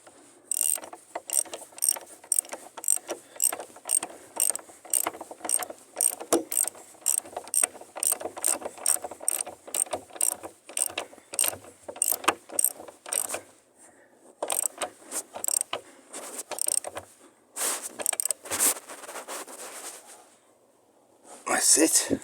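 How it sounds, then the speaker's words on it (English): A screw is tightened into a nut with a rapid run of sharp mechanical clicks and ratchet-like ticks, close and fairly loud, briefly pausing before a final burst. "the screw has gone into the nut, you can then tighten it up"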